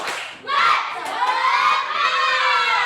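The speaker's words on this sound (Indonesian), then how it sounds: "sekarang kembali Bapak minta kita untuk melakukan tepuk semangat" A classroom of schoolchildren bursts into a loud group shout and cheer during a spirit clap, voices rising together after a brief pause and staying energetic through the end.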